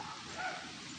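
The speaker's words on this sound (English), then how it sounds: "You hear the dogs barking at us" Dogs bark and yip a short distance off during an outdoor walk, the calls faint and muffled under steady broadband background noise.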